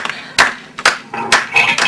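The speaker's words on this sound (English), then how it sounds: "When are we putting the claps on this one?" Hand claps recorded for a song, four sharp, loud, close claps spaced roughly half a second apart over a faint background.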